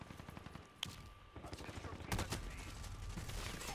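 Gunfire in the Call of Duty video game rattles as continuous, fairly faint fusillades and shots, with several weapons firing at once in a busy, dense mix.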